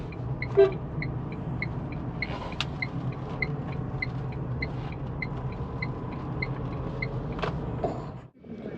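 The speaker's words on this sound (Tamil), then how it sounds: "லெஃப்டில் தான் நிறைய கார்லாம் போச்சு." Steady road traffic rumbles past near Kannur harbour in Kerala, with cars going by at a constant moderate level, faint intermittent mechanical chirps above the drone, and the noise dropping sharply at the very end.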